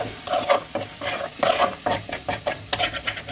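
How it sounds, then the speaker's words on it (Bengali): Spice paste (masala) being fried with a little water in a pan while a spoon stirs it repeatedly, giving a close, steady sizzle with rhythmic scraping strokes and no talking. "মশলাটা শুকনো হয়ে গেলে আমি অল্প জল দিয়ে এটাকে কষতে থাকবো যাতে না মশলাটা ধরে যায়।"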